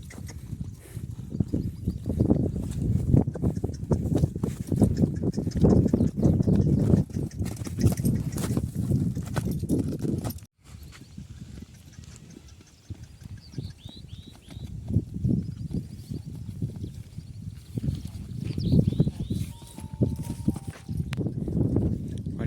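Continuous clip-clop of horse hooves on hard ground, close and steady, easing briefly midway before the rhythmic hoofbeats pick up again.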